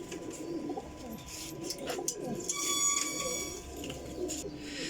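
Teddy Golden pigeons coo softly in a loft, low repeated murmuring calls layered over faint background chatter and light rustling, fairly close but quiet.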